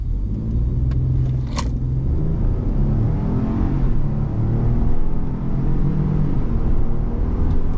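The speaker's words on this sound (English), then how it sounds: "You can barely hear it, but we got turbo noises, people." A 2023 Ford Expedition with an EcoBoost engine accelerates hard from a launch, giving a steady, loud cabin rumble throughout. A faint turbo whistle sits barely audible beneath the engine noise.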